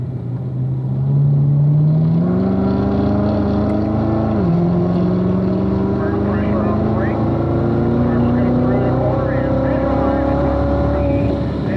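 A car accelerating hard around a race track, a loud engine note climbing steadily in pitch through the gears with a brief dip at a shift, continuous and close, with a person talking faintly underneath.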